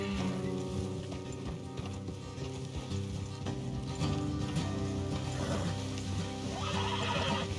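Horses whinny and neigh loudly in a video game as hooves clip-clop along a road, with a steady mechanical background rumble.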